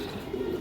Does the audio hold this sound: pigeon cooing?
yes